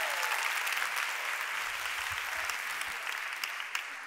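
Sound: audience applause

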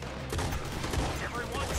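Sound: gunfire in the video game Red Dead Redemption 2

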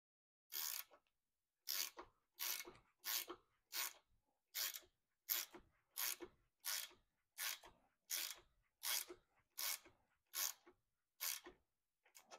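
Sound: 9/16 wrench tightening a dash 4 braided hose fitting

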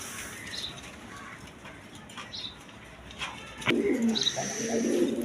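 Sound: red Sirazi Lahori pigeons cooing

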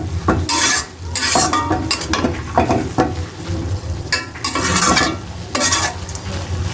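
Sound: stirring food frying in a pan

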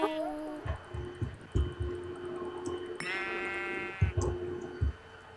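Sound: black sheep bleating in Minecraft video game

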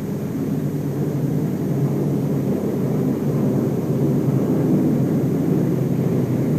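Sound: WWII aircraft flying on a mission

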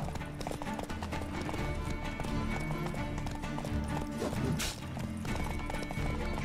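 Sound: horse galloping in The Witcher 3 video game

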